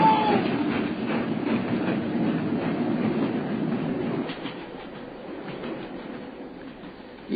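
A steam-era train on the British railway rumbles along steadily with a dense clatter of wheels on track, loud and continuous, easing slightly toward the end.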